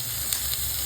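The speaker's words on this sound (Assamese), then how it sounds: "এতিয়া দিম কেপচিকম" Capsicum hits a hot pan, producing a loud, continuous sizzle and hiss for a brief moment.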